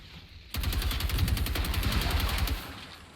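Sustained automatic gunfire in the game Generation Zero, a rapid, steady rattle of shots at moderate loudness lasting a couple of seconds before it cuts off, with no talking over it.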